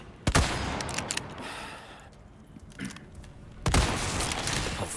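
A TMP submachine gun fires in Resident Evil 4 Remake, with sharp bursts near the start and again near the end over a low ambient game background.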